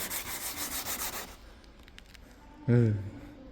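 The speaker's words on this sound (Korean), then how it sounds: "이렇게 물을 뿌려가면서 계속 샌딩을 해야 돼요." Rhythmic wet rubbing strokes of sandpaper against a car headlight lens while water is sprayed, close up, followed by quiet and a brief squeak or voice-like sound.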